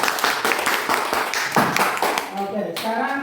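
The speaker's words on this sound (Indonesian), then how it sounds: "tepuk tangan dulu untuk kelompok 3" Applause for group 3 in a classroom: a burst of scattered hand clapping from a group of students, dense and fairly close, tapering off toward the end as a voice begins to speak.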